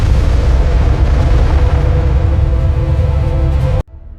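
Asteroid impact explosion effect: a dense, continuous deep roar of blast and churning debris, loud and sustained throughout before cutting off abruptly near the end, with no talk.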